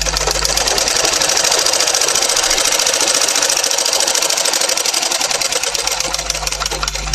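A sewing machine runs steadily at speed, stitching a baby's cotton vest, its rapid needle chatter and motor hum loud and close without pause.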